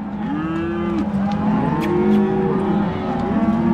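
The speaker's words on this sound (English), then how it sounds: "Hey, cows! Hey, let's go!" Cattle low repeatedly in a field, several drawn-out overlapping moos from a herd at middle distance over a steady outdoor rumble.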